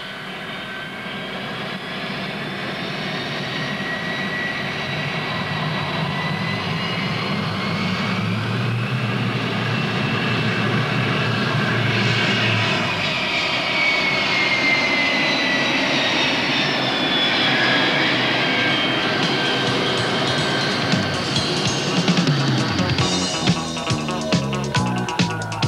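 A Saab JAS 37 Viggen jet of the Swedish Air Force takes off from a road base, its loud engine roar building and holding steady, then sweeping in pitch as it passes and climbs away.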